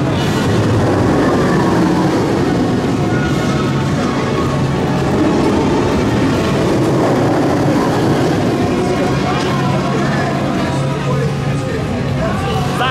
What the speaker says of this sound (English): One of the best rides I've ever had on a B&M coaster.